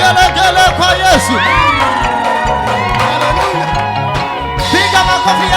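A church congregation ululates, cheers and claps in praise of Jesus during a worship service. The sound is a loud, continuous crowd din with high trilling cries over a dense bed of clapping, steady for the whole stretch.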